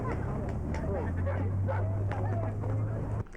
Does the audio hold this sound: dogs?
yes